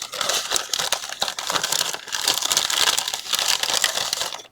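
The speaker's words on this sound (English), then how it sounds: "sorry for the crinkling" Plastic packaging crinkled and crushed by hand while crafting a gingerbread-themed swap project, a dense, continuous crackling rustle close to the microphone, with no talking.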